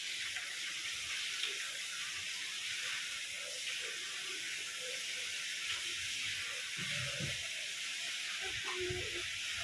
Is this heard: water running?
yes